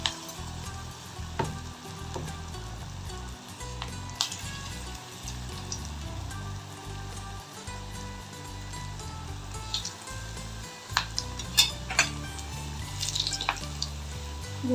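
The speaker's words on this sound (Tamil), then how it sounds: "காலிஃப்ளவரை ஆயிலில் போட்டு எடுத்துருவோம்." Spiced cauliflower pieces for Cauliflower 65 deep fry in hot oil, a soft steady bubbling sizzle broken by occasional clicks and scrapes of a utensil, fairly quiet and without speech.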